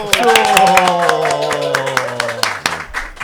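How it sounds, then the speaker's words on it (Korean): Sharp individual hand claps ring out close by on a talk show, layered over a sustained musical tone that slowly descends and fades. "박수!"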